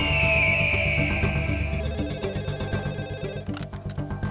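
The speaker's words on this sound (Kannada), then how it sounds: "ಅರ್ಧ ರಾತ್ರಿ 2 ಗಂಟೆಗೆ ಪೊಲೀಸ್ ಸ್ಟೇಷನ್ಗೆ ಫೋನ್ ಬಂತು" A telephone rings late at night in a police station, a steady electronic ringtone pattern repeating loudly and close, with no voices over it.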